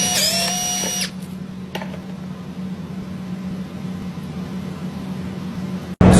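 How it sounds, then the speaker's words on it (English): A premium drill driver gives a brief high whirring spin-up at the start, then a steady low hum runs on, ending with a sharp click. "the difference between an impact and using a premium drill driver"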